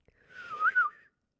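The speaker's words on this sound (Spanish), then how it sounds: "da un silbido y exclama:" A single short human whistle, rising and wavering briefly before stopping, close and clear in an otherwise quiet moment.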